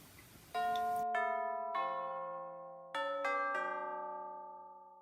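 Several church bells ring one after another in a descending pattern, each note ringing on, with a noticeable pause from a late bell breaking the sequence before the peals resume.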